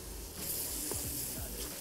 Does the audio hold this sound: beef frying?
yes